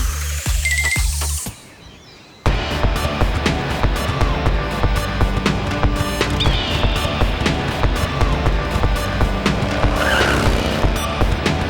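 Cartoon motorbikes skid with squealing tires and then roar away at speed, loud and sustained, after a brief opening burst of cartoon sound effects.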